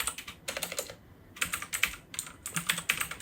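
Typing code on a computer keyboard in bursts of rapid close key clicks, broken by brief pauses, with no voices.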